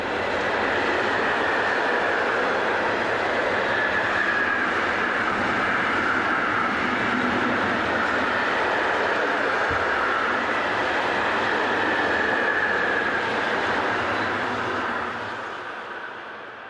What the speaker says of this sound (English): a privately operated Class 185 hurries south with another container train